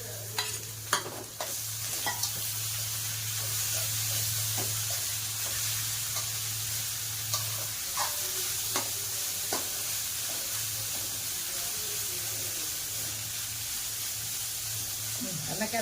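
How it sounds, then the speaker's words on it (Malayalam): Boiled jackfruit seeds frying with onions and crushed Kashmiri chili in hot oil, a continuous close sizzle and hiss with occasional stirring clinks and scrapes throughout. "അപ്പോൾ നമുക്ക് നമ്മുടെ ചക്കക്കുരു തേണ്ട വേവിച്ച് വെച്ചത് അങ്ങോട്ടൊന്ന് ഇടാം."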